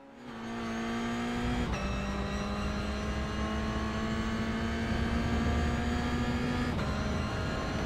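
A Toyota GR86 race car at the Magny-Cours circuit in the iRacing sim holds a loud, sustained engine drone at high revs, with brief dips at two gear shifts and no talk.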